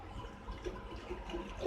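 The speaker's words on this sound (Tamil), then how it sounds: "இப்போ இது கூட நம்ம கரைச்சி வச்சிருக்கிற இந்த புளி தண்ணி விட்டுடலாம்." Tamarind water is poured into a pan for sambar, a soft, steady liquid splash and trickle that stays quiet and close for under two seconds, with no talking.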